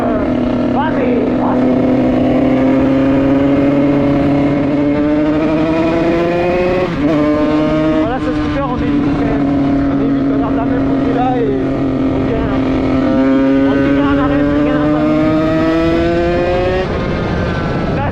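A Peugeot car pulls hard in third gear without the clutch, its engine droning loud and close as the pitch climbs, dips at a shift-like break, then rises again; excited voices talk over the engine.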